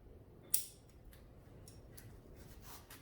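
A single crisp snip of scissors pruning a small box tree bonsai, sharp and close against a quiet room, followed by faint ticks and rustles of handling.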